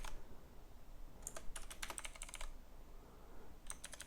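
Code being typed on a computer keyboard comes through as bursts of quick, crisp key clicks separated by pauses, close and quiet with no talking.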